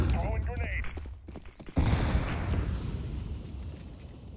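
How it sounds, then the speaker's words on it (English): Counter-Strike 2 grenade going off, a sudden loud blast followed by a rumbling, fading roar, after a brief stretch of speech and clicky gameplay noise. "Throwing grenade."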